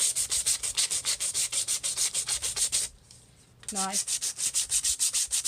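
A part of a 3D Father's Day card is sanded by hand in quick, regular rasping strokes, close and loud, with a brief pause and a short spoken word before the rubbing resumes.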